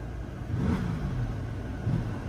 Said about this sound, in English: look at the car move when I get on the gas